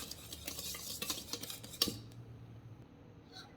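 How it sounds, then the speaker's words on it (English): Flour and baking powder are mixed in a big bowl for banana pancakes, with quick close scraping and tapping strokes, a sharp clink near the end, then near silence. "I'm adding my flour and my baking powder. Gonna give this a good mix."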